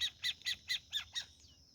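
A small owl gives a quick series of six raspy, squawking calls in even rhythm, close and clear, the last one trailing off.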